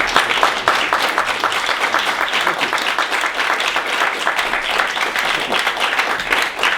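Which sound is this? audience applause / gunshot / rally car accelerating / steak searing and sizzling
audience applause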